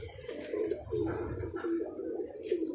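Pigeons coo in repeated low, throaty phrases, several rolling calls in a steady rhythm, close and clear with no talking.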